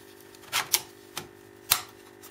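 Slim CD-ROM drive pushed into a 1U rackmount case, a few short plastic clicks and snaps spaced unevenly, close and quiet.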